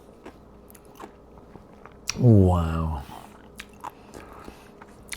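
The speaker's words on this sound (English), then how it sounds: "I hope you heard that crunch." A home-canned pickle gives one loud, close crunchy bite with a brief squishy chew, surrounded by quiet room sound and a short exclaimed word.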